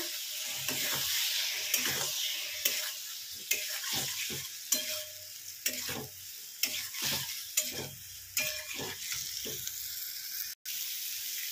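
Pabda fish being stirred and fried with panch phoron spices and a splash of water in a pan: a steady sizzle with repeated scraping stirs throughout, close and fairly loud, with no talking.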